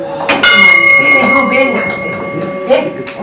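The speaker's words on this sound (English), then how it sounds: "ringing the bell" A temple bell in Bumthang, Bhutan rings out with a long, sustained metallic tone, struck again near the end, as voices murmur in the background.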